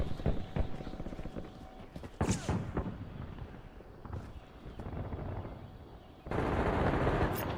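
Rapid gunfire from Call of Duty Warzone comes in several bursts over a steady, dense battle din, with sharp cracks between quieter stretches and a loud, constant roar near the end.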